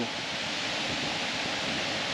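A powerful waterfall in Meta, Colombia, heard as a steady, dense roar of falling water, unbroken and fairly close throughout, with no voices.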